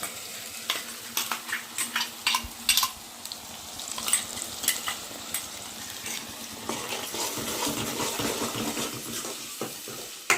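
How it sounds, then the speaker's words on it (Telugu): Ginger, garlic and onion paste frying in a pan, a continuous close sizzle with frequent scraping stirs of a spatula against the metal, busier clatter early on and steadier frying later. "పేస్ట్ వేసుకొని బాగా ఫ్రై చేసుకోవాలి"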